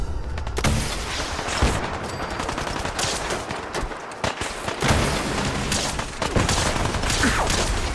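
A missile launcher fires in Fallout 4 with the Sim Settlements 2 mod, a dense stretch of loud, close, rapid gunfire and blasts with crackling impacts running throughout.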